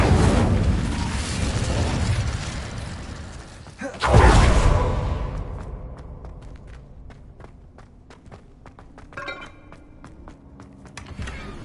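A whooshing fire burst from the Incendio spell in a Harry Potter video game, rising into a loud roaring blast that fades into scattered crackles and clicks.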